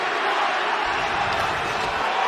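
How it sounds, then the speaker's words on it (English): A sold-out arena crowd at a UFC fight between Chuck Liddell and Tito Ortiz, heard as a steady, loud, dense roar of voices with no break. "Listen to this sold-out crowd."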